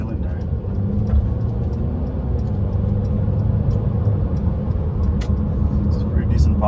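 A Mercedes C300 with a 4-cylinder engine cruises in comfort mode, giving a steady, even cabin drone of engine and road noise that holds at one level throughout.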